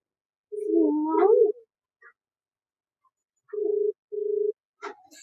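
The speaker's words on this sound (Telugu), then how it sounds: "ఫోన్ రింగ్ అవుతుందండి." An outgoing phone call rings on the line: a warbling tone is followed by two evenly spaced steady ringback bursts and a short click, clear and close against silence.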